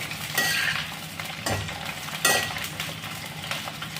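Jackfruit roasts in a pan for a sabzi, a close, even sizzle broken by a few scraping stirs of the spoon against the pan, with no voices.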